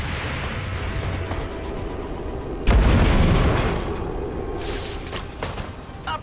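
A loud gunshot in XCOM 2: War of the Chosen booms out over a steady backdrop of in-game noise, followed by a sharp ricochet-like crack a couple of seconds later.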